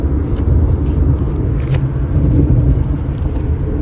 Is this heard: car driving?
yes